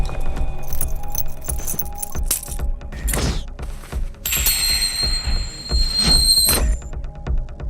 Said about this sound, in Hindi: गाड़ी की चाबी।